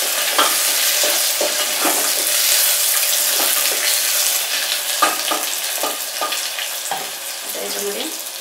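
Onion and curry leaves fry in hot oil in a pan, giving a loud, steady sizzle, close up, with repeated scraping stir strokes cutting through the hiss throughout.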